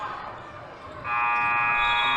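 Loud, sustained end-of-game buzzer at a boys varsity high school basketball game in a gym, sounding from about one second on over crowd noise.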